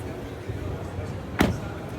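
A single solid thump of a 2025 Citroen C4 X facelift car door shutting cuts through a quiet background, short and close.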